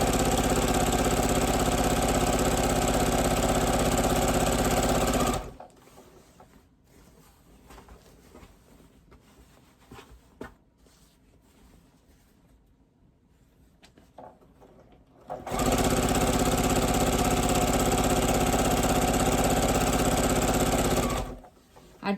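A sewing machine stitching quilt rows runs in two long, steady, loud bursts of motor hum and rapid needle clatter, separated by a quieter stretch of faint handling noises.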